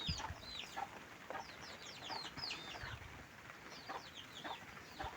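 A broody mother hen and her chicks in a farmyard, with soft repeated clucks and high chirping peeps scattered in quick bursts throughout, close and alone, no voices.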